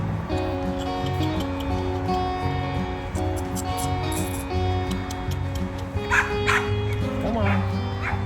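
Westiepoo puppies yip, whimper and give small barks in a busy cluster, with a person talking over them and soft ticking or clicking sounds in the background.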